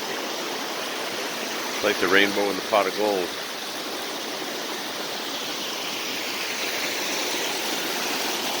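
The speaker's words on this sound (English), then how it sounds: "If you see a waterfall, do your best to follow it." A waterfall by a lake pours in a continuous broadband roar that stays steady throughout, while one person speaks briefly near the start over the rushing water.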